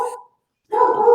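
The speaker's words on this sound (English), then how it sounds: "Now you hear dog bark" A dog gives two loud, close barks separated by a short silence, with no other sound between them.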